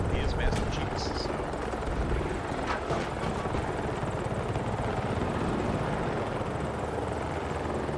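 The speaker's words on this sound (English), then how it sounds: "they nerfed the attack chopper" An attack helicopter in Battlefield 2042 drones with a steady loud rotor roar throughout, accompanied by sharp game effects early on, while players talk over it.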